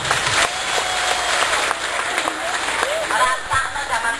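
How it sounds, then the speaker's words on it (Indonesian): Audience at the 55th anniversary celebration of SMPN 1 Wlingi Blitar claps for the education official, lively applause with voices talking and calling over it. "Tepuk tangan dong untuk Kadiknas."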